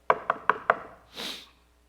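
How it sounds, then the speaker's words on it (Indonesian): Four sharp, evenly spaced knocks on a wooden door, close and crisp, followed by a brief soft rustling sweep as a sound effect in an audio story. "Dia ketok."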